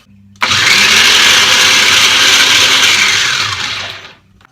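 A food processor grinds capers for tapenade in a loud, steady whir that kicks in abruptly, holds for about four seconds, then winds down toward the end.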